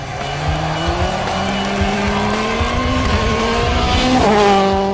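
A WRC rally car on a French championship stage roars past at speed, its engine loud and continuous with tires squealing and skidding throughout.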